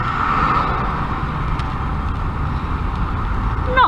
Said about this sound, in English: See all the cars and trucks going into Wellington.